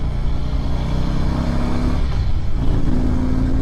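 A Harley-Davidson CVO Ultra Classic touring motorcycle rumbles steadily while being ridden, its deep, even engine drone loud and close with no voices over it.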